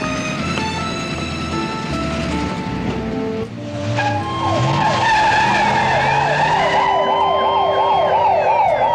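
A police siren wails in a scene from a 1975 television drama, rising and falling in a rapid cycle over engine noise and tyre screeches, loud and close throughout.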